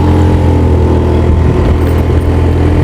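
Motorcycle on a rainy solo touring ride, its engine droning loud and close as the throttle opens fully, a continuous rumble heavy with wind noise and no talk.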